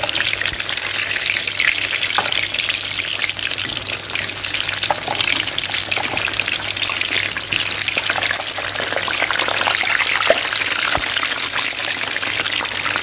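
Eggplant frying in a pan for a rice dish with potato and tomato, giving a loud, steady, dense sizzle that holds without a break, with faint scrapes of stirring mixed in.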